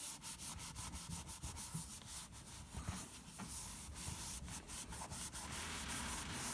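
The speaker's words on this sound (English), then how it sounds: "Give it a little bit of rubbing." Wet plastic is rubbed by hand with a homemade plastic cleaner in a rhythmic series of soft, scrubbing strokes. The sound is close and quiet, with no talking.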